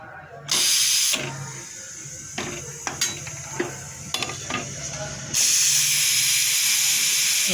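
A pressure cooker of cooked chickpeas vents steam in loud, close hissing bursts, one short at the start and a sustained one at the end, with light metallic clinks and handling noises between.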